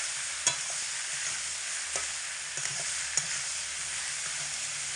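Boiled taro flower stalks are stirred in a hot pan beside prawns, with a steady sizzle running throughout and several sharp scrapes and clacks of a spatula against the pan.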